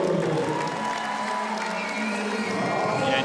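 Steady crowd noise from spectators at a FIBA Women's EuroBasket 2023 basketball game between Israel and Italy, a continuous roar of cheering and scattered applause filling the arena at an even, moderate level with no clear talk over it.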